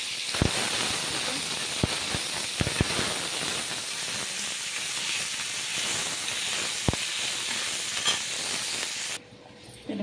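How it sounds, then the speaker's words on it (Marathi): Spice masala for trotter soup roasting in a little oil, a steady soft hiss and sizzle with a few sharp ticks of stirring, ending abruptly in near quiet. "आता हे थोडंसं अजून थोडंसं भाजणार आहे, थोडं तेल टाकूया आपण त्याच्यात"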